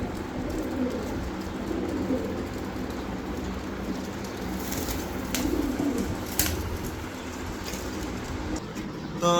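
Pigeons coo softly and continuously in a large commercial pigeon loft in Chunkutia, Keraniganj, set against a dense hiss with a few faint clicks.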